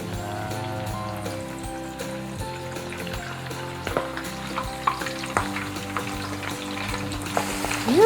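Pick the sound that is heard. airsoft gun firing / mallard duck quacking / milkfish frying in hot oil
milkfish frying in hot oil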